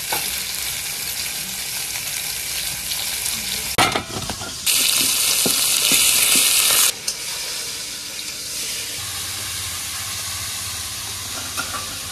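Shol fish (snakehead) fries in a pan with a steady, loud sizzle, then a sharper burst of spitting hiss midway, and a softer ongoing crackle afterward.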